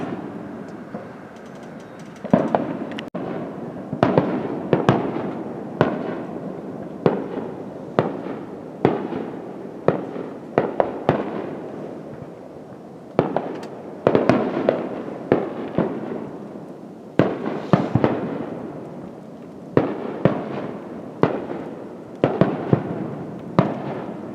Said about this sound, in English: We came over here to golf course to see the fireworks